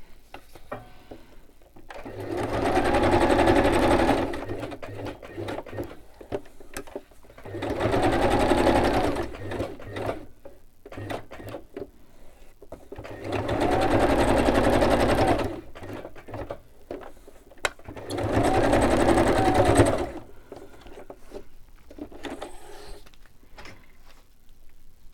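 Sewing machine stitching fabric around a glassine bag in four separate bursts of steady mechanical whirring, each a few seconds long, with quieter pauses of handling and clicks in between.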